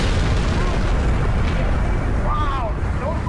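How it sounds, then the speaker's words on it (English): A loud, continuous roaring rumble fills the air like the aftermath of a huge blast, with faint voices calling out toward the end. "The explosion is massive."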